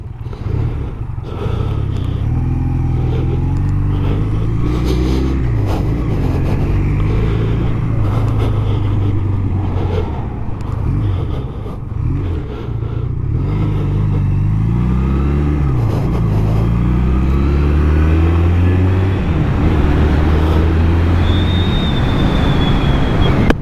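Honda CB250 Nighthawk classic motorcycle on the move, its engine droning loud and close with rising revs that dip and climb again at each gear change, wind noise steady throughout.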